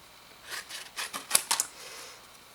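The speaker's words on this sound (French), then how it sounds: "Une paire de ciseaux" Scissors snipping through paper while a magic card is made, several quick crisp cuts in close succession, near and fairly clear, with no talking.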